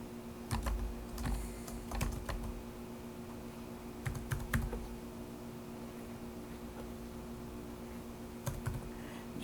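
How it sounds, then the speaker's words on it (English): Computer keyboard typing in short bursts of clicks separated by pauses, close and fairly crisp over a steady electrical hum. "Type in the city, state, and postal code."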